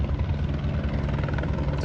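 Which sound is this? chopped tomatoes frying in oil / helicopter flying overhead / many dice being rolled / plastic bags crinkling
helicopter flying overhead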